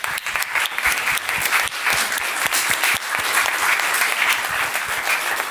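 Conference audience applauding after a talk on ship construction, a steady full round of clapping from a sizeable crowd lasting throughout, with no voices over it.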